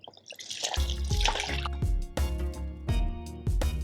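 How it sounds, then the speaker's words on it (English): Water trickles and drips onto marinating chicken seasoned with soy sauce, poured in a few short splashing bursts close by. "If your chicken's too dry, add some water."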